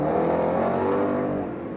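A Range Rover Sport SVR with an upgraded exhaust revs loudly and close, a dense rasping engine roar that holds steady and then eases slightly toward the end, with no talking.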